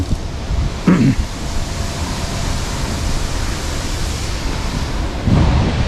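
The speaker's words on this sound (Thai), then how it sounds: "ตรงนี้ลมเย็น" Steady, broad rushing wind fills the clip, with a couple of louder gusts buffeting the microphone, outdoors along the Khlong Ong Ang canal street-art area.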